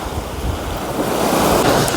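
Strong wind and sea waves on the Odesa coast in cold March weather: steady loud rushing surf with heavy wind buffeting the microphone, swelling slightly toward the end.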